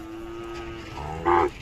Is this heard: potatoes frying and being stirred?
no